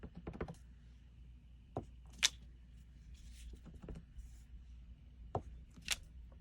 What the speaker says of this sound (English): you're going to just stamp this out 3 times